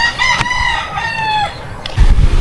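A pet rooster crows one long, loud, close cock-a-doodle-doo, followed by a brief low rumble of movement or clucking from the flock.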